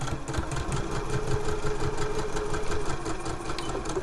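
A sewing machine back stitches a seam on a zip tote, a steady, close, rapid mechanical whirring and rattling that carries on at an even level, with no voices.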